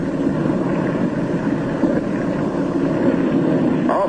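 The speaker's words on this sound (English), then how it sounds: "His one remaining engine is losing power." A single remaining aircraft engine losing power drones as a steady, loud, low rumble with wind-like roar, continuous throughout and with no voices over it.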